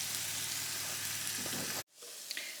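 Onions caramelise in a frying pan with a steady, loud sizzle and crackle that runs continuously, then cuts off sharply before a softer hiss resumes.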